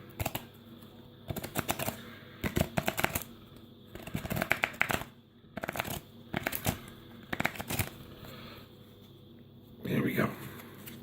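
A deck of oracle cards being shuffled by hand in short crisp bursts of riffling and flicking, several rapid clusters separated by pauses, close up and fairly quiet.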